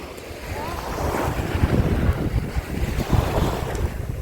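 Sea waves wash onto Golden Beach in a steady broadband rush, with gusty wind buffeting the microphone and a low rumbling surge that swells and ebbs.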